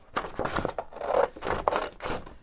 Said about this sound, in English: I'm just going to cut one and then I'll straighten it out.